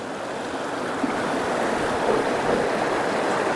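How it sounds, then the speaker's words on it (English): Steady rushing water running down small waterfalls in a riverside park, a continuous broadband wash like a small cascade spilling nearby, fairly loud and even throughout with no voices. "it runs all the way down, causing all kinds of little waterfalls."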